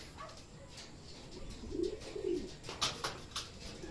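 Racing pigeons arrive at the loft during training in Tanay, Rizal, cooing softly in a few low, throaty bursts, with faint chirps and light fluttering nearby and no talking.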